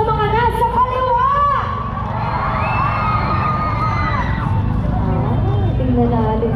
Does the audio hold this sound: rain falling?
no